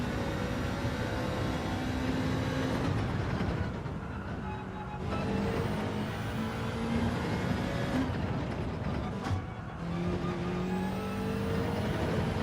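Race car engines roar continuously in Gran Turismo 7, a loud steady drone with shifting pitch as cars accelerate and change gears, briefly dipping before surging again.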